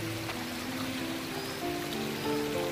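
Water flowing at Murree lake, a steady broad rush of moving water heard up close and alone, holding an even level throughout with no voices.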